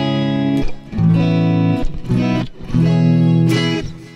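A clean electric guitar, played on the middle pickup setting with room reverb, rings out in several sustained chords with brief breaks between them, loud and close.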